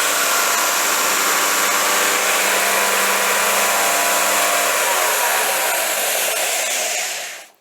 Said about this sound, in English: So you can imagine at that kind of belt speed, it really just peels the material off.